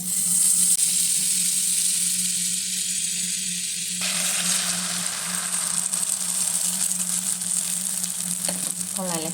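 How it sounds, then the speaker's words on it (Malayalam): Butter sizzles in a frying pan for a spinach omelette, the pan humming quietly before a loud, steady crackling frying hiss breaks in and continues up close to the end. "പാൻ വെച്ചു. നമുക്കിതിൽ കുറച്ച് ബട്ടർ ചേർക്കാം."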